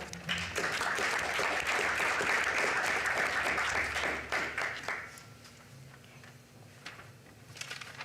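Applause for young artists at a Las Vegas city council meeting: a steady room full of clapping that holds for about five seconds, then fades into quiet chamber ambience with a few scattered claps.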